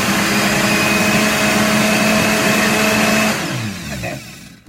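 A blender whirs steadily while blending strawberry ice cream, a loud continuous motor drone that holds for about three seconds before winding down and fading out.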